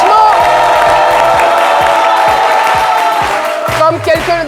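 Studio audience cheering and clapping for a singer on a TV midday show, a loud sustained crowd roar with whoops over a steady musical backing, swelling slightly near the end.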